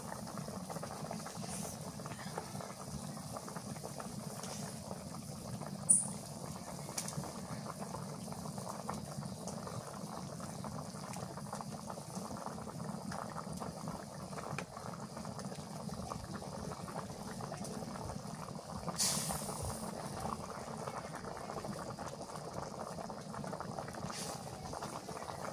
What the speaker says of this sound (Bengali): তরকারি বলক উঠে গেছে